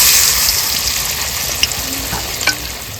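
Malabar spinach leaf pakoras frying in hot oil produce a loud, close, constant bubbling sizzle, with a couple of sharp pops and clinks toward the end.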